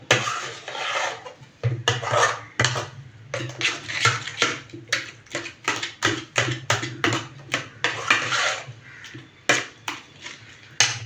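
Mango pudding ingredients and sugar being mixed in a bowl: rapid, rhythmic scraping and grinding strokes of a utensil, close and fairly loud, with brief pauses between bursts.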